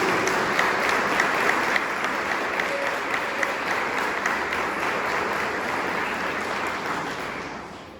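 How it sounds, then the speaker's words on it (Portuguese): A church congregation applauds steadily and loudly for the full stretch, a dense wash of many hands clapping, tapering off slightly at the very end. "Eu quero que você aplaude a vida do pastor Jetson, em nome de Jesus."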